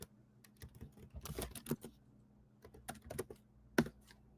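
Fast, irregular clacking of a computer keyboard, close and fairly quiet, with short bursts of keystrokes separated by brief pauses.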